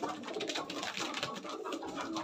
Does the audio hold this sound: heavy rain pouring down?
no